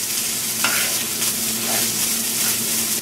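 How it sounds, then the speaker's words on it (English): Red quinoa is stirred around a hot pan, a steady sizzle with scraping strokes from the spoon running throughout, close and fairly loud with no talking. "And then stir it around till everything is hot."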